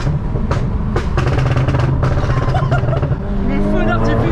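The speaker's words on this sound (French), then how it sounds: "Le pop and bang, je l'ai réglé sur la carto sport." Tuned car on a sport map firing exhaust pops and bangs, a rapid crackling burst over a loud, steady engine drone, with people talking over it.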